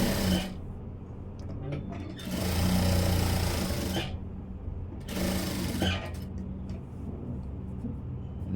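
A sewing machine stitches the folded front of a blouse in two close bursts of rapid whirring, separated and followed by near-silent pauses with small handling ticks.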